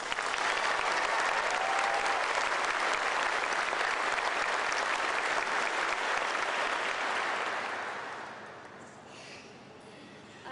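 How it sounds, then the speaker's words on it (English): A large audience claps steadily for several seconds, a dense wash of applause that fades gradually toward the end. "Let's give her another round of applause."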